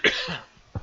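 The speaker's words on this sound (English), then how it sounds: "Just coughing a second." A single sharp cough with a short throat-clearing tail, followed by a second brief cough burst, close and fairly quiet.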